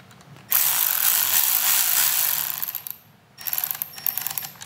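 A T25 Torx bolt is snugged on 2008-2013 Harley-Davidson handlebars during internal wiring work. A loud, steady ratcheting hiss runs for about two seconds, then fades, and short choppy bursts follow, close up with no talk.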